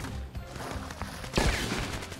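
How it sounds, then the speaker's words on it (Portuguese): Machine gun fire in the animal battle game Zooba comes in a brief, dense burst of rapid gunshots among other game effects, loud and up close. "caraca, uma metralhadora isso daí, véi"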